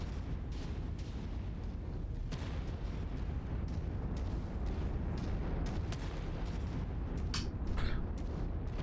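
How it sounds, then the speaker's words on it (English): Artillery cannons in MechWarrior 5 fire in repeated deep booms over a rumbling battlefield background, with sharper blasts breaking through near the end and no talking. "These artillery cannons are bugging me."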